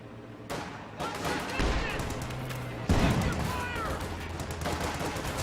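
Rifle squads fire in Company of Heroes 2 during a 3v3 match on the Pavlov's House map: dense, continuous volleys of gunshots with sharp cracks and a louder burst near the end, with game voice lines mixed underneath.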